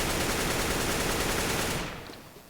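Rapid continuous automatic gunfire from a player moving while shooting in Counter-Strike: Global Offensive, a loud dense burst that cuts off and fades out near the end.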